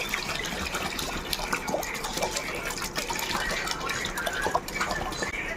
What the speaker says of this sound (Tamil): 2 கிலோ தண்ணி ஊற்றுறோம்.